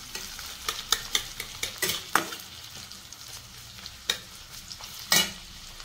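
Chopped onion with torn bay leaf hits hot mustard oil in a pan, crackling and sizzling up close while a spoon stirs and clacks against the pot in quick, uneven strokes.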